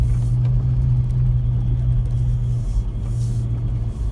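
A 4WD vehicle's engine drones at low pitch as its wheels spin a little on a sun-dried, rutted dirt track, a steady rumble with slight surges and no talk.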